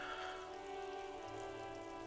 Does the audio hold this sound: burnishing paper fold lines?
no